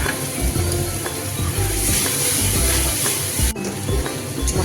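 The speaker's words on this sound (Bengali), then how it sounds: "এবার আমার এটাকে ভালো করে আমি একটু কষিয়ে নিচ্ছি।" Masala for katla fish kalia frying in a pan with rhythmic stirring scrapes over a loud constant sizzle, with a brief dip in the noise partway through.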